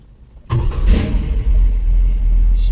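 A 1970 Chevrolet Nova engine cranks and fires abruptly, then settles into a loud, close, rumbling idle with a brief rev; it is heard alone.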